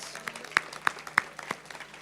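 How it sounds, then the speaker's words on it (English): A small audience at an Emancipation Day brunch claps for a Ward 4 council member, a sparse, faint patter of separate hand claps with a few sharper ones standing out. "Let's give Brandon a round of applause"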